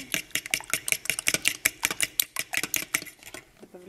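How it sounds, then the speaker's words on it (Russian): A fork beats eggs in a bowl for dumpling batter, rapid clicking strokes against the bowl in an even, quick rhythm, close and clear, slowing and stopping near the end. "теперь все это вилкой взбиваем"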